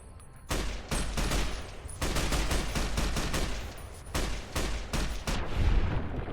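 Dense bursts of automatic gunfire in Fallout: New Vegas, loud and sustained in long strings broken by short pauses, with no talk over it.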